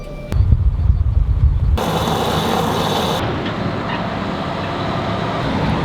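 A car engine started with a push button: a low cranking rumble, then a sudden steady broadband roar that settles into a constant running hum, close by and without talk.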